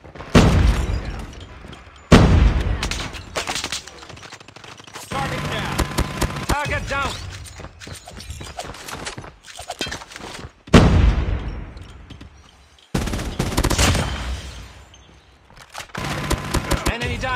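A sentry gun fires in a video game. Sharp bursts of gunfire recur every couple of seconds, with booms and scattered shots between, and game voice lines are heard throughout.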